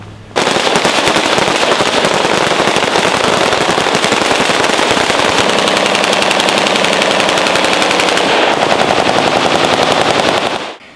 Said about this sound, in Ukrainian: Ці постріли в честь товаришів по службі, які не змогли вийти з оточення.